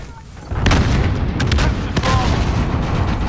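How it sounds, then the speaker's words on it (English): A grenade explosion in Call of Duty: Modern Warfare, a heavy boom that hits loud and close and is followed by sharp cracks of gunfire and lingering rumble, with voices in the background. "Throwing grenade!"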